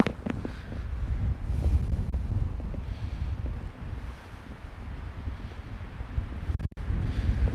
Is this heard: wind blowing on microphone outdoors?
yes